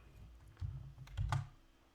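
Computer keyboard gives a couple of soft, close key presses for a Control Z shortcut, two brief thumps about half a second apart over a quiet background, with no talking.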